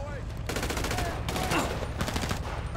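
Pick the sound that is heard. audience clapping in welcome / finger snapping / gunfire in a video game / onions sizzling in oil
gunfire in a video game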